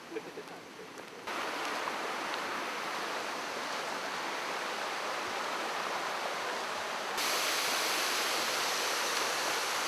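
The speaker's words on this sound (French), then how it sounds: "Je suis au pied d'une cascade célèbre dans cette montagne" A steady, roaring rush of water at the foot of a mountain waterfall in Yoshino, Nara, fills the scene, constant and broadband, growing slightly louder and brighter toward the end, with no voices.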